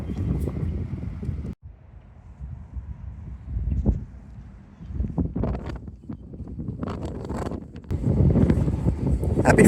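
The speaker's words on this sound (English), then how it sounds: "We are dealing with some 16-mile-an-hour wind gust right now." Strong wind gusts buffet the microphone outdoors on a farm, coming in rumbling surges that ease off and then build again, loudest toward the end.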